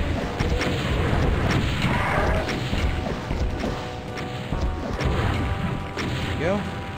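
Rocket launcher blasts against revenants in Doom 2, a string of loud crashing explosions and impacts piling over each other, with a monster screech near the end.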